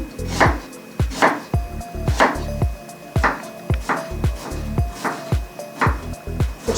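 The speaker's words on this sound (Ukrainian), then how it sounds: "Для соуса білого основного цибулю нарізаємо дрібною дрібною крихтою" Onion finely chopped with a knife on a cutting board for a basic white sauce, a rapid close series of sharp, rhythmic knife thuds, about two per second, with no talking.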